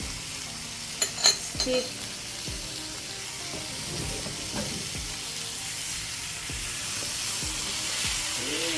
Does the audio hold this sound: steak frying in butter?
yes